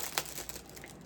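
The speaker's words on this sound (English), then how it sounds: "But I'm sorry for the crinkling." Plastic packaging crinkles close by in a brief burst of crackly rustling.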